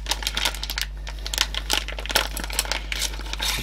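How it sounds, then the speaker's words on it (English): Crinkly rustling of plastic packaging on a kit with a grinder plate and screws, close and continuous, with small crackles and crumples throughout and no speech. "My apologies for the rustling."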